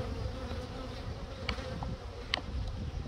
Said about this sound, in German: Die Bienen machen das wieder sauber